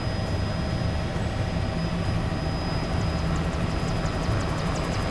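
A helicopter flying low during a rhino darting operation in Kenya gives a steady, loud rotor and engine roar that stays constant throughout, with no voices.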